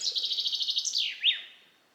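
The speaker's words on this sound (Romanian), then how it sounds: "Ascultă ciripitul păsărilor." A single bird sings a rapid trill of repeated chirps, then finishes with a couple of sharp descending whistles, close and clear against quiet.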